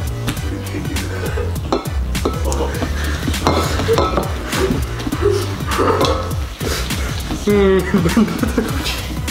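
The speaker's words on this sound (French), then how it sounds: "tu vas venir remuer ton jaune d'œuf avec ta" Spatula scraping and clinking against a bowl as egg yolk is stirred for brownie and cookie batter, with steady kitchen clatter and a person talking over it.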